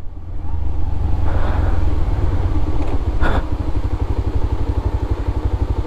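A 125cc motorcycle runs along a national highway with a steady, loud, close engine drone and some wind rush, briefly broken by a clatter.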